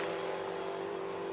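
Formula Ford 1600 race cars sweep past the pit wall at the Kirkistown circuit during an Irish FF1600 championship race, a loud, steady engine drone with no voices.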